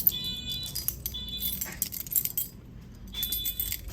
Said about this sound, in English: Got the keys.